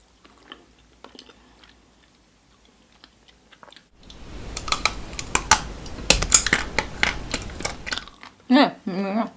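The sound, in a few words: chewing taro-flavoured mochi ice cream with strawberry filling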